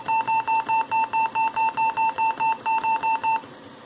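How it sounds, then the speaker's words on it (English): A rapid string of evenly spaced electronic beeps, about a dozen short tones in steady rhythm, fairly clear, ending abruptly with faint background hiss. "You can hear some beeping on some computers."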